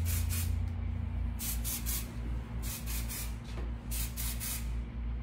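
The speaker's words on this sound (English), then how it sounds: "I love to use our dry texture spray." Four quick bursts of dry texture hair spray hiss out in pairs and short runs, close and crisp, with brief quiet gaps between them.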